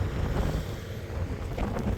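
Steady wind buffeting the microphone with a low rumble, constant and fairly loud throughout, no voices.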